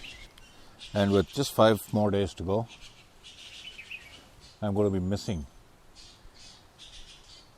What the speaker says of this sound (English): There are these creepers chirping away in front of me.